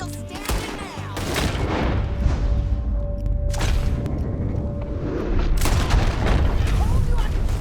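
Gunfire in the Red Dead Redemption 2 video game: several loud booming shots ring out amid dense in-game action and shouting voices, with a sustained rumbling background throughout.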